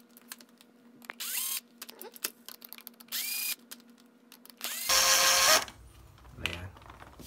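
Electric screwdriver whirring in three short bursts as it removes the four screws from the inner plastic cover of an electric fan, with quiet handling clicks between bursts.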